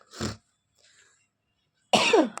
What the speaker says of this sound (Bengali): খুব কাশি হচ্ছে, খুসখুস কাশি